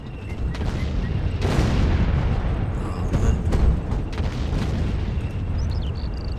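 Artillery guns in the WWII strategy game Sudden Strike 2 fire a series of loud booms with rumbling blasts over about six seconds, layered with scattered distant gunfire and explosions.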